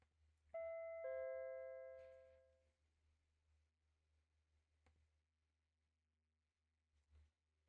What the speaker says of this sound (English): As I begin to wonder if anyone heard the doorbell